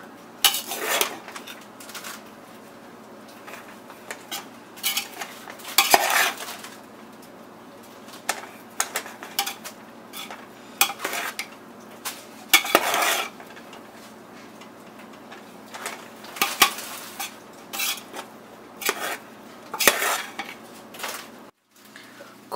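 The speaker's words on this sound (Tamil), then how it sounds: "நல்லா கிண்டி விட்டுக்கலாம் மொத்தமாக" Mushroom biryani in Thalapakatti style being stirred in a pot, with a spoon scraping and clanking against the metal in irregular bursts separated by quieter pauses, close up and without voices.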